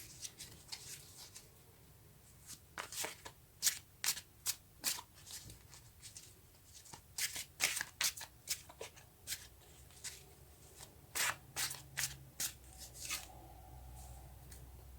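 Tarot cards are shuffled by hand in a quiet room, giving a long run of close, crisp riffles and flicks in irregular bursts over about fifteen seconds.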